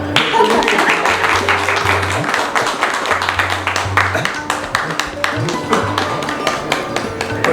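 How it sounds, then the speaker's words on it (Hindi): A gathering claps for the retirement of train manager Shree Sunil Acharya, with dense, uneven hand claps running throughout over a low steady hum and voices. "तो तालियां"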